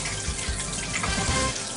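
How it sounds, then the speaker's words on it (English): High-pressure water sprays from a shower head while hair is shampooed, a close, steady hissing rush with slight splashy fluctuations, alone and continuous. "We can adjust the pressure of the water."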